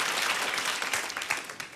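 A concert audience claps in a brief, dense burst of applause, fairly close and loud, with no speech over it.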